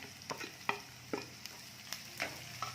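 Chopped onion is stirred into garlic and green chilies frying in a pan for a spinach and lentil dish, with scattered close scrapes and clinks of the spatula over a soft, steady sizzle.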